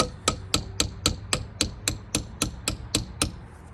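A socket is hammered into a transfer case for a 1999 Eclipse GSX AWD, a dozen sharp metallic hammer strikes landing close and loud in an even, steady rhythm.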